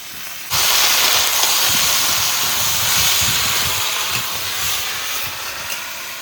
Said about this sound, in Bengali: এবার কুচানো আলু দিয়ে দেবো